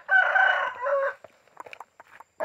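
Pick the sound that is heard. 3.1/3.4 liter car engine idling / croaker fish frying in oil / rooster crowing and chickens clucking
rooster crowing and chickens clucking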